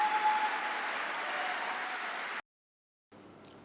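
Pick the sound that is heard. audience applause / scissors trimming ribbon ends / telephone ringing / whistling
audience applause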